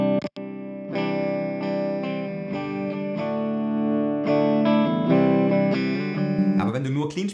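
Electric guitar played through an amp with a rocky, distorted tone, sustained chords ringing out after a brief pluck, loud and steady with a busier strummed flurry at the end.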